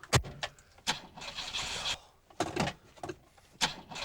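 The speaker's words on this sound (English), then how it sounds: "tried to start your 1970s Morris, it would respond by making a noise like this" A 1970s Morris car is cranked on a cold winter morning, the starter churning in several uneven whirring bursts with short gaps, the engine never catching.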